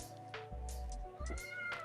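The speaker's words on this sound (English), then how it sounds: "It's the cat." A pet cat meows a few times close by, in short plaintive calls over a quiet indoor background.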